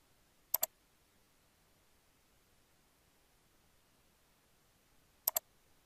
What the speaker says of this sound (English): Click on Change button